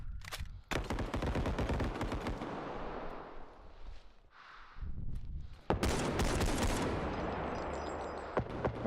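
Heavy video game gunfire pours out in dense, continuous volleys, loud and near, with a brief lull midway before the firing resumes even harder.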